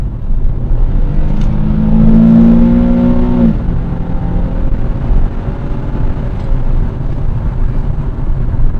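A 2008 Nissan 350Z engine rises in pitch under hard acceleration on an open road, then drops sharply at a gear change and settles into a lower, steady rumble with road noise, heard from inside the car.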